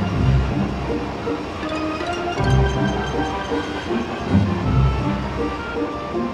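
A train in the video game Final Fantasy VIII rolls steadily along with low rumbling and periodic heavier thumps of wheels over rail joints, plus a faint hiss, with no talking.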